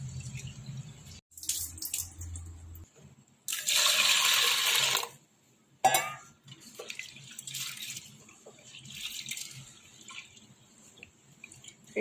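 Rice and dal being washed under a running kitchen tap, with bursts of gushing water into a bowl, pauses, and lighter trickling and splashing as the grains are rinsed.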